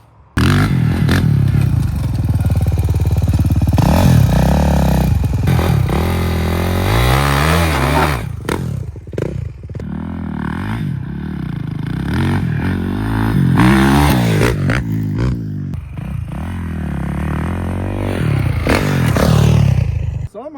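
A Kawasaki KX450 dirt bike engine revs hard and loud, rising and falling over and over for about twenty seconds, with rattling and scraping mixed in.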